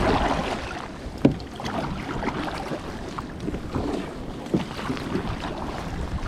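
A kayak is paddled on open water on an early spring morning in East Lothian, with soft splashing strokes and a couple of sharper knocks against a background of wind noise, no voices.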